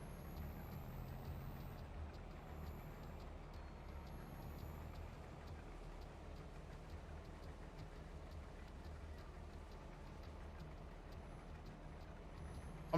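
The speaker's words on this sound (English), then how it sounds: "I'm not gonna lie, I do just like revving this thing." A truck engine in the Farming Simulator 22 video game runs at a steady, loud, low rumble for the whole stretch, with a constant drone and no clear rises in pitch.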